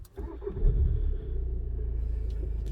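An Audi A3 8V engine cranks briefly and catches, then settles into a steady, fairly loud idle rumble heard up close from inside the car, with no talking.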